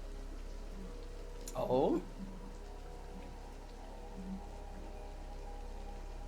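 Light rain falling as background ambience during a tabletop role-play session, a faint steady hiss of drops throughout, briefly interrupted by a short spoken voice.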